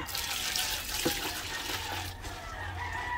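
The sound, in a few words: water poured to soak breeder pellets and corn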